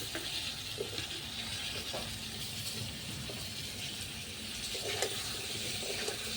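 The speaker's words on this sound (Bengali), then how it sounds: "ডাঁটাগুলো হালকা একটু ভেজে নেব।" Vegetable stalks and potatoes fry in a pan with turmeric and salt, giving a soft, steady sizzle with faint scattered pops and light stirring, fairly quiet and close.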